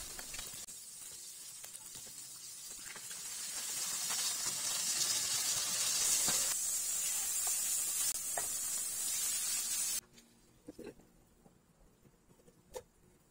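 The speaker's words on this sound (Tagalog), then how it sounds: "Prituhin lang natin yan mga 2 to 4 minutes per side or until mag-lightly brown." Pork chops fry in a hot pan, giving a steady, soft sizzling hiss that swells gently and then cuts off abruptly, followed by a few faint clicks.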